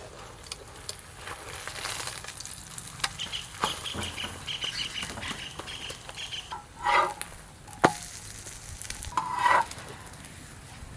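An egg paratha roll fries in a pan with a steady, broadband sizzle and hiss. A few louder stirring or scraping clatters cut in partway through. No one speaks.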